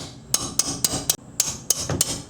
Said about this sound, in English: Our trusty hammer.